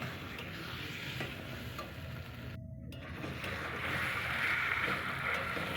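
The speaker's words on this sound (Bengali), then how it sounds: "এবার বেশ একটু ভালো করে ঘেটে নিতে হবে এই সময় যাতে ওই ডাটি ডাটি শক্ত শক্ত না থাকে" Taro leaves (kochu shak) stirred in a cooking pan, a steady close scraping and sizzling churn that holds evenly throughout with a brief dropout midway, no talking.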